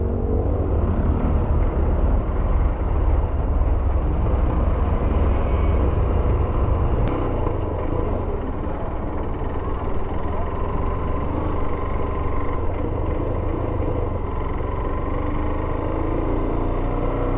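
Engine rumble from cars and motorcycles at a moto car show in Tagaytay, a steady loud low drone of idling and passing vehicles throughout with no talk.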